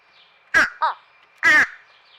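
A wild crow in an American backyard gives two loud, harsh caws with a shorter rasping call between them, close and clear against quiet surroundings.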